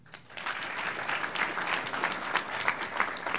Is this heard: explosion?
no